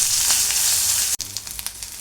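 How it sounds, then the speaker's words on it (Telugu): Tempering frying in a pan with ginger-garlic paste, a close steady sizzle and crackle of hot oil, broken by a short gap and faint stirring. "ఫ్రై చేసుకోవాలి"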